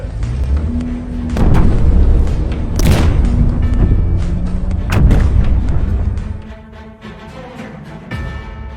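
Fireworks going off in a series of loud, booming explosions and sharp cracks, several heavy blasts spread across several seconds with rumbling between them.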